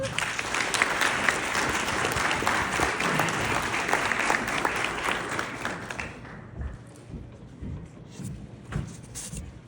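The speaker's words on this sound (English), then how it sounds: "please give a round of applause for our very own David Allen" Conference audience applause for David Allen, a loud sustained burst of many hands clapping that thins out after about six seconds into scattered claps and murmurs.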